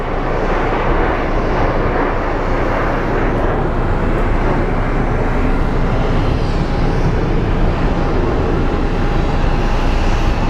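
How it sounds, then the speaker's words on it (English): A jet airplane taxiing at Phoenix Sky Harbor International Airport makes a steady, close engine roar with a faint whine running through it. "the plane we were focused on earlier is officially taxiing"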